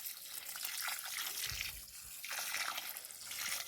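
Water poured from a container to wash granular fertilizer into the soil around grapevines, a soft steady splashing and trickling that stays close, quiet and continuous for a few seconds.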